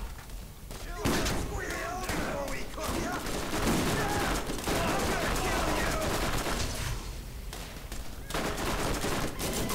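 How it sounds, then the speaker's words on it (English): Rapid shotgun blasts fired by the character Roland in the video game Borderlands, a string of loud, punchy shots with thuds and impacts, under someone talking throughout. "keep going around with this shotgun then"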